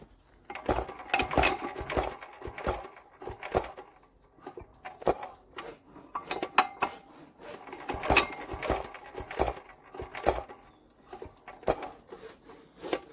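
Old stationary engine being cranked in freezing temperatures, giving repeated bursts of clattering, rattling mechanical effort in uneven groups, loud and close, with no sign of the engine catching and running.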